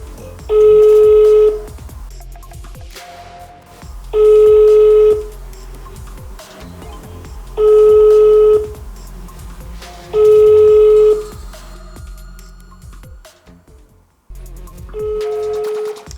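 An unanswered telephone call rings out as a loud, steady ringback tone, repeating five times in even bursts about three seconds apart with quiet gaps between.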